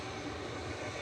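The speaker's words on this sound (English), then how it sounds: "Spool up and spool down again." Jet engines of an airliner at an airport spool briefly, a short steady roar with a slight swell and no voices.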